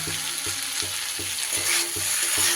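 Mixed vegetables are stir-fried with spices and salt in a pan over lowered gas, giving a loud, continuous sizzle with regular rhythmic scraping strokes of the spatula.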